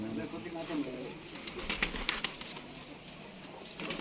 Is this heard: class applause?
no